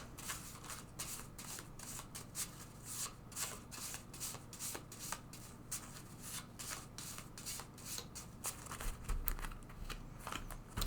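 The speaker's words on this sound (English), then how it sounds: "Let's put these in here again and give them a good shuffle." A deck of cards being shuffled close up, rapid repeated riffling flutters in quick bursts, continuing steadily throughout.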